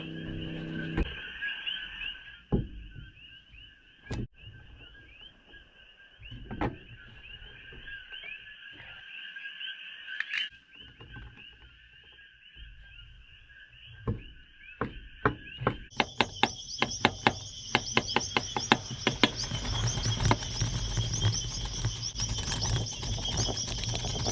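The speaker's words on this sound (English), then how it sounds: "Start by mincing up this beet." A knife minces a fresh beet on a board, first with scattered single chops, then a fast, dense run of chopping, over a steady high-pitched outdoor drone.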